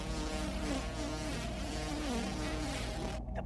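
A housefly buzzes close to the microphone in a continuous droning whine that wavers in pitch, loud and steady, cutting off abruptly at the end.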